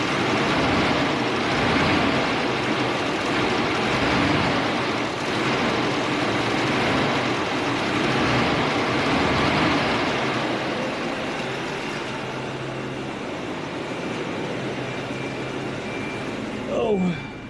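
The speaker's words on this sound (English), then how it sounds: "Sounds pretty quiet now, besides that dead clutch fan." A steady, loud engine-bay roar from a Volvo 740 with a broad whooshing noise from a failing clutch fan running continuously, fading slightly toward the end.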